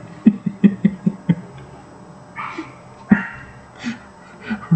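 Dogs at a dog park let out a quick run of short barks, then scattered yelps and whimpers with breathy pauses between, fairly close and sharp.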